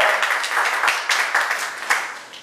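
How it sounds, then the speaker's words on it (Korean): Applause from a congregation during a Sunday morning church service: dense, continuous clapping from many hands, fairly loud and steady for the whole stretch, with a few sharper bursts near the end. "우리 박수 한번 다시 한번 주겠어요."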